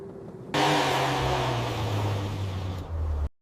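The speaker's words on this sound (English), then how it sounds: "I bet that car is suited up nice if it's sounding like that" A car engine roars up suddenly and loudly and holds a strained, steady rev for nearly three seconds before it cuts off abruptly. The sound is close and alone, with no voices.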